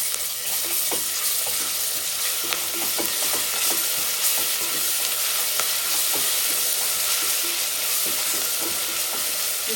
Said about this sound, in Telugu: ఇప్పుడు ఇందులో అల్లం వెల్లుల్లి పేస్ట్ వేస్తాం ఇది కొంచెం గోలని ఇవ్వాలి